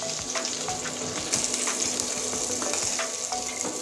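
Rohu fish frying in hot oil, a loud continuous sizzle peppered with sharp crackles and spatter pops, close up and steady throughout.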